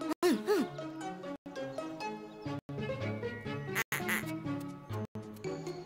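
A duck quacks repeatedly in short nasal bursts with brief pauses between them while crossing a road with cars stopped, close and clear, over faint background tones.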